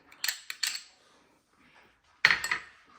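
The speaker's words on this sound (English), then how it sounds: "and now I'm going to mix onion, about 2 spoons" Spoon stirring chopped onion into sattu filling for paratha in a bowl, two short bursts of scraping and clinking, then a louder clatter near the end, close and alone.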